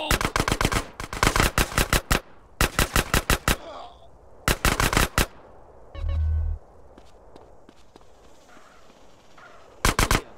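Bursts of automatic gunfire in GTA San Andreas come in rapid rattling volleys with short gaps, loud and close, along with a brief low thump and scattered background game noise.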